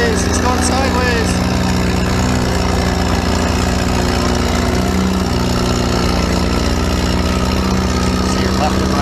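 A loud, steady tractor engine roar at a tractor pull drones throughout, heavy and close, with no pauses.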